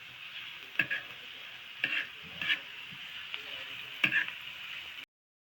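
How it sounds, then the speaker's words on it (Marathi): Onion fries in a pan before tomato is added, a faint, steady sizzle broken by a few soft scraping strokes of stirring spaced about a second apart, quiet and close, with no talking. "हे बघा इकडे आई कांदा भाजून घेत आहे."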